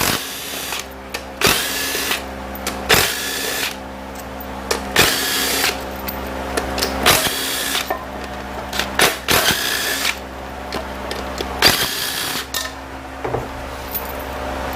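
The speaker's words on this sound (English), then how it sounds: "We need a 10mm bolt. Remove our pump bolts." A power tool spins out 10mm pump bolts on a 5R55S transmission under repair, short bursts of whirring separated by pauses, with metallic clinks of parts and tools between runs.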